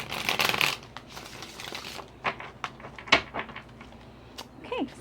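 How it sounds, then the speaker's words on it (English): Tarot cards being shuffled by hand, with a dense riffling burst at the start followed by scattered soft taps, slides and clicks. A brief voice-like squeak comes near the end. "Let me go ahead and shuffle a couple of times."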